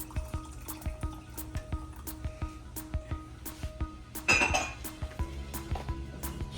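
A metal spoon stirs a thickening sesame chicken sauce with garlic and cornstarch in a pan, giving steady, rhythmic clinks against the pan, close and fairly quiet, with no talking.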